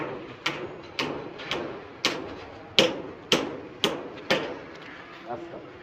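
A hammer drives stakes into the ground for a village goat shelter, landing about eight sharp, evenly spaced blows, each ringing and fading quickly at close range with no talk over it.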